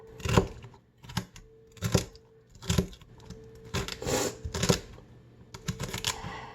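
A knife chops celery into small pieces on a cutting board, making a steady series of sharp, close crunchy chops at about one per second.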